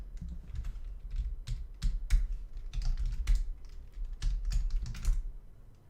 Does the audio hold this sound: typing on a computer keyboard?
yes